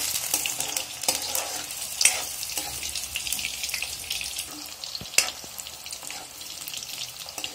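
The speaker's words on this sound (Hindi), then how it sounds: "जब तक ये गोल्डन ब्राउन ना हो जाए तब तक इन्हें फ्राई करते रहना है।" Aloo badi frying in oil until golden brown, a continuous bright sizzle with occasional stirring clicks and scrapes, fairly soft and steady.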